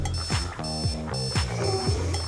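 An alarm clock rings in a steady, repeating electronic tone pattern with bright, sustained pitches, about four evenly spaced bursts over a couple of seconds, fairly close and alone without talk.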